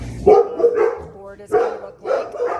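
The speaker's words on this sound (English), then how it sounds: "Excuse my dogs." Several household dogs bark in short bursts while a person nearby talks through staining wooden boards, the barks overlapping the speech in a loud, close indoor space.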